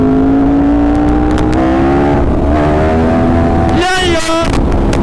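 A Yamaha R1 superbike accelerates hard into a wheelie, its engine note climbing in a loud, close rising whine that surges sharply near the end.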